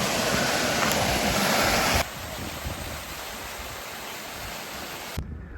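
A waterfall near Easedale Tarn in the Lake District gives a steady, broadband rush of falling water with no talk. It is louder for the first two seconds, then settles to a softer, even roar.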